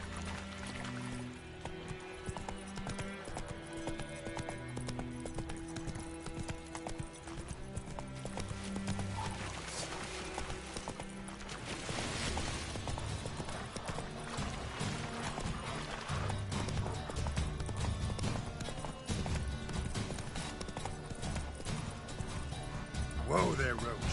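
Roach, Geralt's horse in The Witcher 3, gallops with a rapid, continuous drum of hoofbeats, joined by whinnies and game sounds, while a voice speaks over the action.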